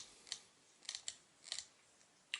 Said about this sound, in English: you change your apertures with a little wheel on the front from f22